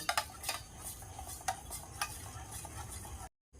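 Sour yogurt being whisked in a bowl at close range, with a quick run of rhythmic clinks and scrapes of a utensil against the bowl that ends in a sudden stop.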